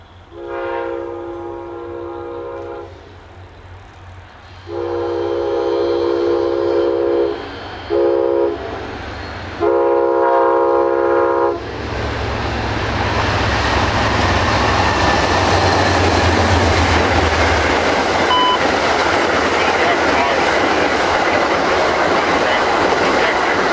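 A CSX train sounds several long horn blasts as it approaches, then rumbles past loudly with a steady roar of cars rolling by up close.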